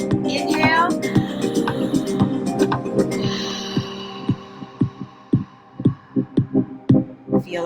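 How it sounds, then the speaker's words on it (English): Steady thumping heartbeat pulses, deep and rhythmic, emerge from a humming tonal drone with some voice early on, then beat alone in a regular repeating pattern. "Feel the heartbeat, feel the heartbeat."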